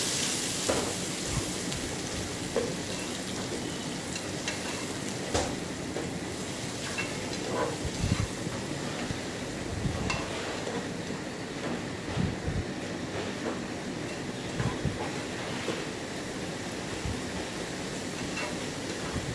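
Spices with salt fry in oil in a pan on the stove before duck meat goes in, a continuous soft sizzle with scattered crackles and pops, moderately close and steady throughout, no voices.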